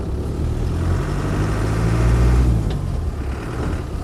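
A Land Rover 90 hardtop's 200Tdi diesel engine runs steadily, a loud, close, low rumbling idle with a slight swell in revs midway and no talk.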